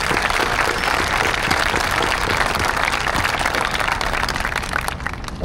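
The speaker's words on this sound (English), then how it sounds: "How about just a round of applause for all of the amazing folks that we have here today." Crowd applause at a National Vietnam Veterans Day memorial parade, a dense, loud, sustained wash of many hands clapping outdoors that holds steady before tapering at the end.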